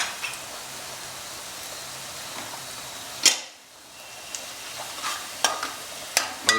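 Spice masala of chilli, salt and coriander powder frying in a pan for chicken biryani, a constant hiss of sizzling oil broken by sharp scraping stirs of a spoon, loud and close.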